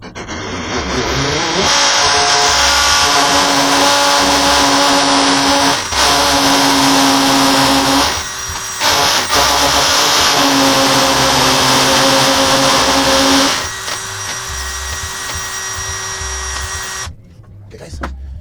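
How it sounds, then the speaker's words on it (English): A power drill whines loudly at close range while bits are driven in to mount blinds, running in several sustained bursts of high-pitched spinning with short pauses between them, then easing to a lower steady hum before stopping. "that's why we're gonna drill"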